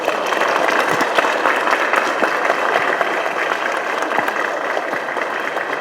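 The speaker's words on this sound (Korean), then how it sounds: "큰 박수로 시작하도록 하겠습니다" A large crowd claps steadily and loudly at a joint campaign launch rally for a Korean general election, the applause sustained and dense throughout with no pause.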